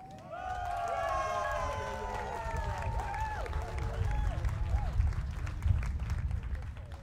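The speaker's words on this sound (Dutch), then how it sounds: "geef de jonge muzikanten maar een bemoedigend applaus" Encouraging applause and crowd noise for a young marching showband at a youth music festival, a broad low rumble of clapping and murmuring building gradually, with voices talking and calling out over it.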